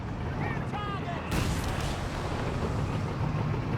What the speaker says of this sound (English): 17 pounder focusing on the Brumbier instead of the Panzer III